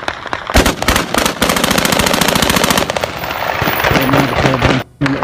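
Celebratory gunfire at midnight in Kabul as Taliban fighters shoot into the air after the final US withdrawal: loud, dense bursts of automatic fire crackle continuously with overlapping shots, briefly dropping out near the end.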